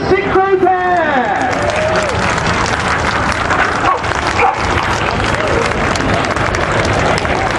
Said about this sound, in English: Ladies and gentlemen, please a big round of applause for the synchro pair!